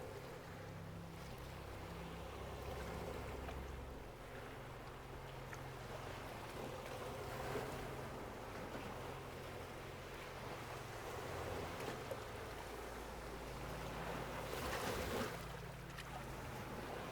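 Water washes and laps softly in a continuous low wash on the New Zealand coast, with faint wind and occasional gentle surges, quiet and distant.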